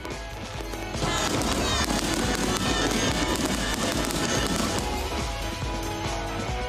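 Dense crackling fireworks bursts pile up after a quieter start, a sustained barrage of pops and booms with faint crowd cheering underneath, at a summer fireworks festival at Ocean Expo Park, Okinawa.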